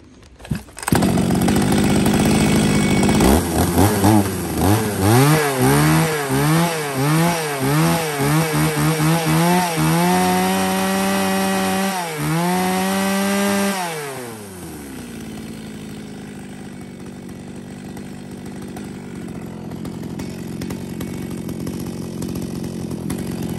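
A used Japanese Echo V3500 chainsaw engine starts and runs loud and close, revving up and down in repeated bursts before settling into a steady, lower idle.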